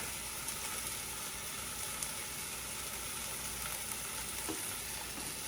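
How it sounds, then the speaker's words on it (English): Roast beef seasoned with salt and pepper sizzles steadily in a pan, a constant close frying hiss with faint crackles and no talking. "And you want to hear that sizzle."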